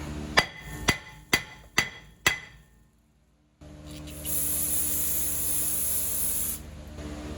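Five sharp, evenly spaced hammer blows strike a brake rotor on a 2012 Honda Pilot, ringing metallically, followed by a pause and then a steady hissing spray.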